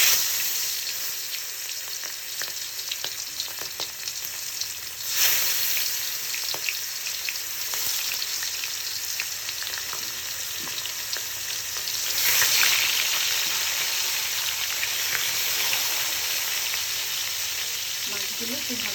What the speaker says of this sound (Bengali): পাঙাশ মাছ ভাজার সময় একটু সাবধানে ভাজতে হবে, কারণ প্রচুর পরিমাণে তেল ছেটে।